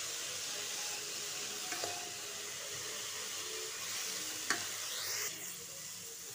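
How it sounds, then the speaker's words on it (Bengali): Pumpkin leaves fry with garlic in a pan, giving a steady close sizzle with occasional scraping knocks as they are stirred, with no voices. "ভালোভাবে এরকমভাবে নেড়ে নেড়ে পাতাগুলিকে ভাজা ভাজা করে দিতে হবে।"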